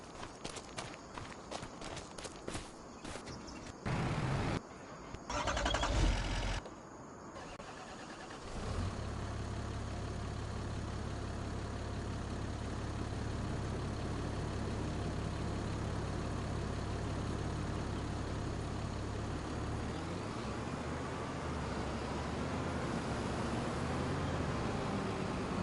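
A farm tractor engine starts after a few seconds of footsteps and shuffling, then idles in a steady low rumble that continues close by for the rest of the stretch.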